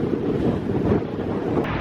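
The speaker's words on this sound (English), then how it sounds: "So when it's windy like this" Strong wind gusts at the seaside near St Kilda, a loud, continuous rushing roar buffeting the microphone, with the faint wash of waves beneath and no voices.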